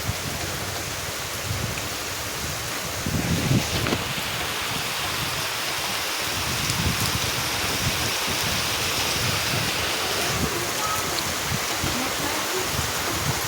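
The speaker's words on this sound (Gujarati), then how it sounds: "જોરદાર વરસાદ ચાલુ થઈ ગયો છે હવે" Heavy monsoon rain pours down in Gujarat as a dense, steady broadband wash that holds loud and unbroken throughout, with no talk.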